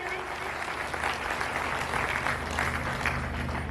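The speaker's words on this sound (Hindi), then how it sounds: "एक बार जोरदार तालियां हो जाएं।" Applause from the audience at a municipal women's cleanliness festival event, a steady wash of clapping throughout, with a faint low hum beneath.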